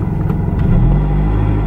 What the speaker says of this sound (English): Let's see if it'll actually take off in first.